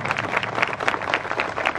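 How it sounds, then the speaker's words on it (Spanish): A small group claps for children at a First Communion celebration in Jacona, Michoacán, in a steady, even rhythm, moderately close, with no voices standing out over it. "Un aplauso para estos niños"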